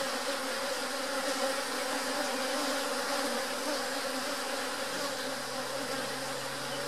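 A cluster of honeybees buzzes at a hive in a dense, continuous, even drone, close and steady throughout.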